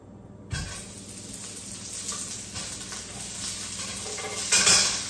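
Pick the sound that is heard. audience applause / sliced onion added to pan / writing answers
sliced onion added to pan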